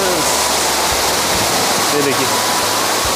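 A small waterfall by a roadside in North East India roars as a loud, steady broadband rush of falling water, close by, while someone speaks briefly over it.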